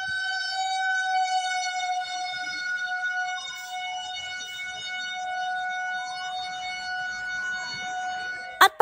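A fire truck's steady wailing siren with a strong harmonic tone holds throughout, sounding moderately close, ending with a sharp knock, as firefighters respond to a burning bus.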